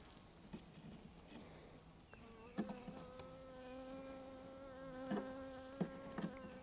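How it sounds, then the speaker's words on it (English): A small swarm of honey bees hums softly and steadily throughout, a close, gentle drone with faint higher tones, interrupted by a few sharp knocks and taps near the hive box. "They're just some really quiet bees."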